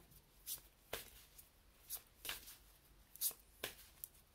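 Tarot cards shuffled by hand in soft, rhythmic riffles and flicks, about eight quick bursts spaced roughly half a second apart, close but quiet, with no voices.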